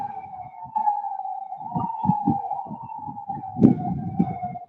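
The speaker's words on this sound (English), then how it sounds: "It ain't the city until you get one of them damn sirens." An emergency vehicle siren sounds in a city street, a steady wailing tone running throughout under scattered low rumbles and thumps, moderately loud and continuous.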